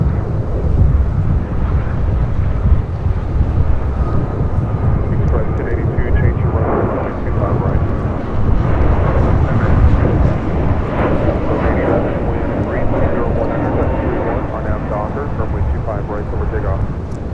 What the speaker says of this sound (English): This is Spirit Airlines 203 taking off to Charlotte on an A321neo.